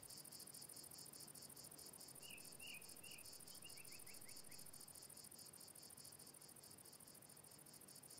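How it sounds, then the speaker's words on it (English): Cicadas in the medieval colony-building game Going Medieval make a continuous high buzzing drone with pulsing rhythm, faint but steady throughout, with a few brief chirps and no speech. "It sounds like cicadas in the game."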